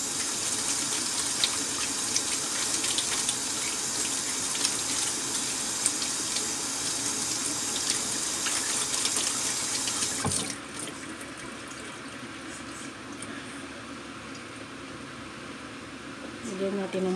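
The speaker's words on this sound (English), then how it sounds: "I'm going to wash my hands." A kitchen tap runs steadily while hands are washed under it, a close, continuous rushing splash that stops abruptly partway through, leaving a quieter room.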